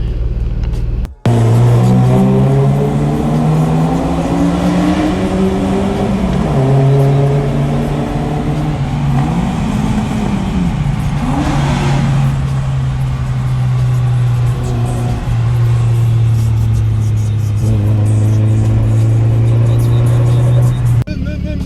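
BMW E36 car engine running steadily while driving on a street at night, a loud continuous drone with shifting pitch as the revs rise and fall, close and dominant throughout.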